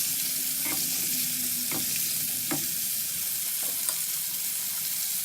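Chicken pakora pieces fry in hot oil with a continuous bright sizzle and crackle, close and steady, broken a few times by the soft knock of a utensil stirring or turning the pieces.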